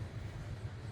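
A Powder River Basin coal train in Wyoming with two distributed power locomotives rumbles steadily with a deep, continuous low drone, fairly close and unbroken, with no voices.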